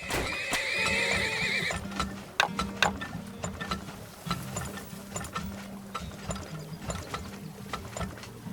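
Horses in the oil-drilling tycoon video game Turmoil, a loud whinny at the start followed by clip-clop hooves and ticking mechanical sounds, no talking.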